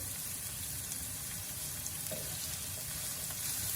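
Steady, close sizzle of food sautéing in a hot pan over medium-high heat, continuous crackle and hiss with no voices.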